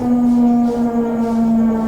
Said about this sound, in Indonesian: terasa banget niki sirine dari masjid-masjid, dari langgar-langgar itu.